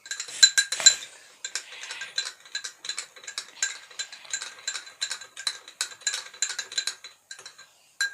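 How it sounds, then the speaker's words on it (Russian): A spoon stirs sugar into juice while making homemade Sprite, giving a fast run of light metallic clinks and scrapes against the container, steady and close with no talk. "Весь сахар высыпаем в наш сок. Высыпаем весь. И размешиваем."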